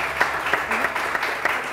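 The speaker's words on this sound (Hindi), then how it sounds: "इसमें जोर से होनी चाहिए तालियां।" Studio audience applause on a Pakistani TV morning show: a short burst of dense, steady clapping that stays fairly loud throughout, with no speech over it.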